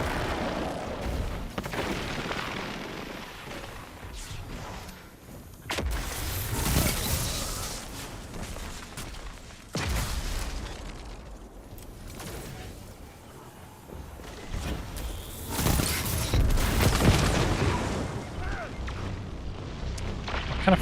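Rocket explosions from the shooter game Destiny 2 boom repeatedly in heavy, loud bursts at irregular intervals, mixed with gunfire and other combat noise, with a voice talking over parts of it.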